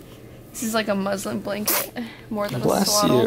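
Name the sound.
sneeze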